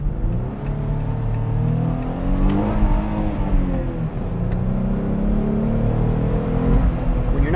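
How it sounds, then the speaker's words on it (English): A 2018 Jeep Wrangler Sport 4x4 with the Pentastar V6 and manual gearbox revs up and down steadily, its engine note rising and falling close by through the whole stretch. "When you're not bouncing off the rev limiter, power is really good from this Pentastar V6"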